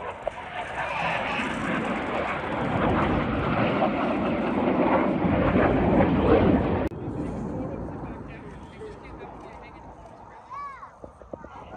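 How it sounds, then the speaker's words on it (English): Two display aircraft pass at an air show over Toronto's waterfront, a broad roaring rush that swells and then fades in the distance, with a public-address announcer talking over it. "Both aircraft aiming for the fireboat, they'll pass 30 metres apart."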